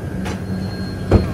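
A train bound for Vizag from Chennai gives off a low, steady rumbling hum, broken by two brief clunks, one faint early and one louder near the end, with no talk.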